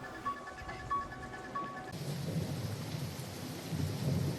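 Steady heavy rain with rolling thunder in a slasher film scene, a faint tonal hum fading as the broad downpour swells and stays loud to the end, with no talk.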